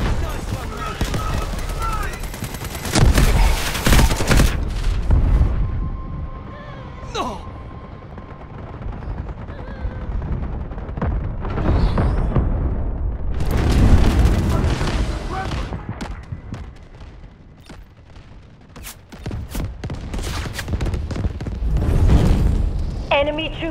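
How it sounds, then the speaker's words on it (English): Booming artillery and rattling gunfire fill a battle in the video game Delta Force, dense and loud throughout with heavy blasts and bursts of shots, while voices speak over the action. "Incoming artillery, destroy the enemy."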